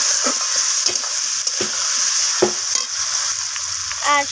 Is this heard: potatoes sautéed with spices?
yes